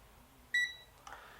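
A digital multimeter gives a single short electronic beep on being switched on, clear and close, followed by a faint click and soft rustle in an otherwise quiet room.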